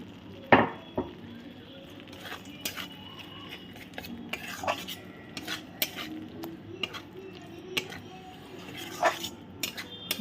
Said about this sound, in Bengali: দিয়ে আবারও খুব ভালোভাবে হালকা হাতে এটাকে খানিকক্ষণ কষিয়ে নেবো, যতক্ষণ না সাইড দিয়ে তেল ছেড়ে দিচ্ছে।